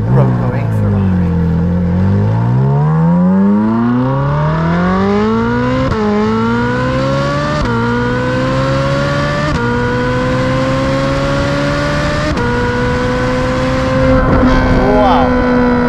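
Ferrari 458 Speciale, a naturally aspirated V8 road car fitted with a Novitec exhaust, revs hard up through the gears to a 9,000 rpm redline, the loud, rising engine howl climbing in repeated pulls with brief dips at each shift, close and sustained throughout.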